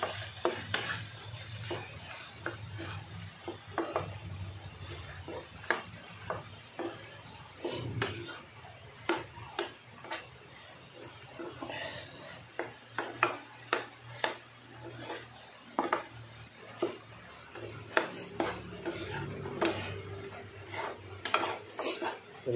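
Tuna sisig with egg stirred in a pan: a spatula scrapes and clacks against the metal in a loose, repeated rhythm, close and distinct over a soft sizzle, with no talking.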